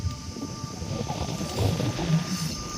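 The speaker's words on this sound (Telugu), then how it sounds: "స్పీడ్గా ఎంత అద్భుతంగా అయితే ఈ డ్రోను ఆ లిక్విడ్ అనేది వదులుతూ ఉన్నారు" An agricultural drone sprays liquid, its rotors giving a steady, droning whir with a thin constant tone that swells slightly toward the end, moderately loud and continuous throughout.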